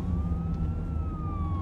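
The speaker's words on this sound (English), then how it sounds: "Is that an ambulance?" An ambulance siren wails in a steady, slowly rising and falling tone over a low road rumble, fairly close and continuous throughout.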